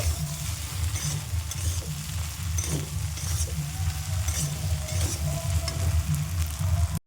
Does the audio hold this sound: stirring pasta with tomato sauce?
yes